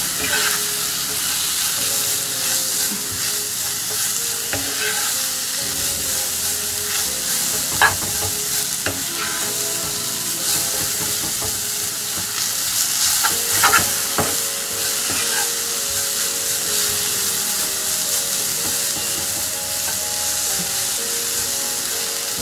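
Grated potato and flour frying in oil and being stirred: a loud, steady sizzle and hiss close by, with occasional scraping clicks from the spoon across the pan over a long stretch.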